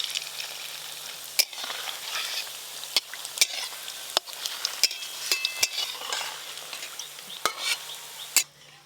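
Kofta made with chhena fries in hot oil, a steady soft sizzle under occasional sharp clicks of a utensil stirring against the pan, close and fairly quiet.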